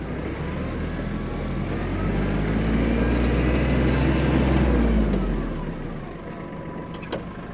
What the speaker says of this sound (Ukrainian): Газ в пол. Отримали максимальну швидкість трактора.